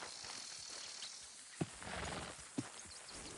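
A horse's hooves knock twice, sharp and spaced about a second apart, against a steady hiss of rough background noise, with no talking.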